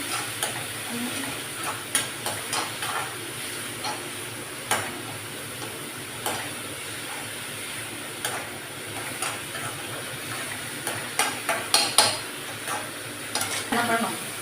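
Onions and curry leaves fry in a pan for fish curry while a spoon stirs them. The scrapes and knocks come in irregular bursts over a steady, soft sizzle, and no one speaks.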